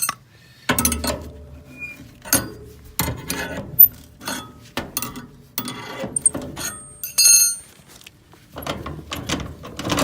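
Fasteners on a Quonset hut panel being loosened with a wrench, loud close bursts of ratcheting and metallic clinking separated by brief pauses, with no talking.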